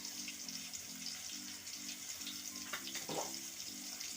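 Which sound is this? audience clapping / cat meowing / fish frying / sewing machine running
fish frying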